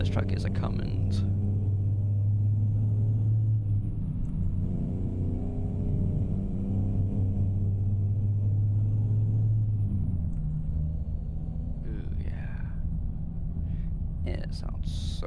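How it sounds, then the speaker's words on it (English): Simulated Cummins diesel engine of a DAF XG truck in a modded truck-driving game, a low, steady droning rumble that shifts pitch as it changes load, with faint higher whines and brief clicks near the end. "The engine that's in this truck is a Cummins."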